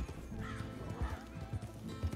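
A horse in Red Dead Redemption 2 gives a loud, drawn-out whinny over a steady patter of hoofbeats, the call rising and wavering for about two seconds.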